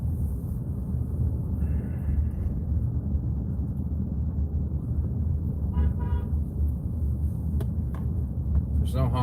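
Car horns toot a few times amid steady low road rumble and traffic noise, with brief honks near the middle and end.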